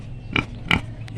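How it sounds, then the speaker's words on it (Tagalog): A lone farm pig gives two short, close grunts about a third of a second apart against a quiet background. "Ito na yung baboy ko na isa, yung natira."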